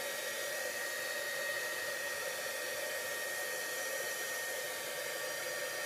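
A handheld heat tool blows a steady, loud, unbroken whir over layers of ink on paper, continuous from start to finish with no talking.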